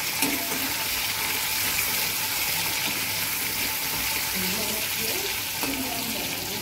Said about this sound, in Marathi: हे पण चांगलं मऊ होतं परतून घेऊया